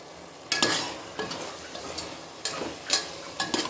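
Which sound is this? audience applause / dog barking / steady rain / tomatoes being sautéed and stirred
tomatoes being sautéed and stirred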